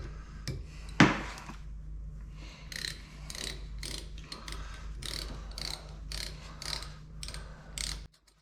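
Stainless steel screws being tightened into an aluminum block, a quiet run of small ratcheting clicks and metallic ticks, with one sharper knock near the start.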